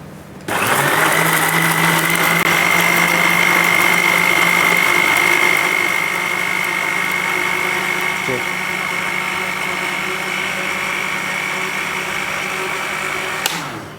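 A blender whirs steadily as it blends a sugar-free Karachi Jam-e-Shirin shake in a kitchen, running loud and continuous for about thirteen seconds before cutting off.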